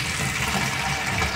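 Tap water runs steadily and fairly loudly while a plastic recorder flute is rinsed, a continuous broadband splashing rush with no voices.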